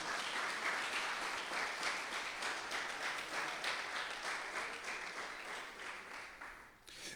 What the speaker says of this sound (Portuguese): Então aplauda ao Senhor. Pode aplaudir.